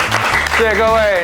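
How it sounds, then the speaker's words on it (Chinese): Brief burst of applause from a crowd, heard under a voice speaking over it. "掌声再次"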